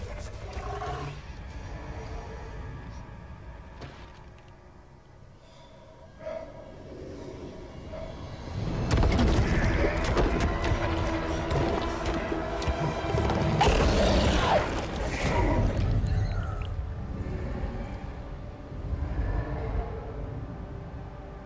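A deep, rumbling creature breath swells and recedes twice over a mechanical background hum, echoing as though inside a large cavern, then fades away.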